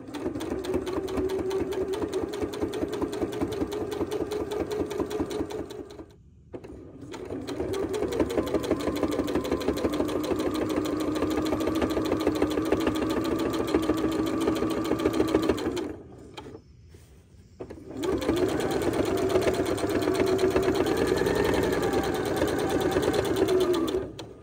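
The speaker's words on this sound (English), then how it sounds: "now I'm going to take it to the sewing machine and I'm going to sew a 1/4-inch seam allowance" A sewing machine stitches a quarter-inch seam on a quilt in three long bursts of rapid stitching, separated by two short pauses, close and fairly loud with no talking.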